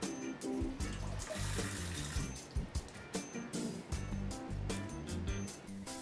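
Steady rush of tap water spraying from a Tushy bidet attachment, heard close and loud, with a continuous splashing hiss that rises and falls slightly throughout.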